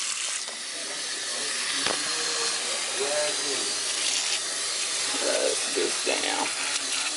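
Tap water runs on high for washing a wig with shampoo and conditioner, a steady loud hiss filling the whole clip while a person talks briefly over it.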